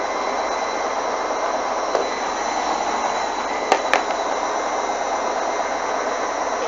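Hoover washing machine on a high spin near 6,000 RPM, a loud, steady whirring roar with a constant hum and a couple of sharp knocks near the end, with no voices.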